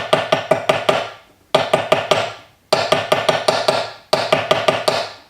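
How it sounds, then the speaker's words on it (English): A nylon-tipped hammer strikes a metal cuff bracelet in four quick bursts of about five sharp, ringing blows each, separated by short pauses. The taps sound close and resonant. "Remember, I'm using the nylon tipped hammer."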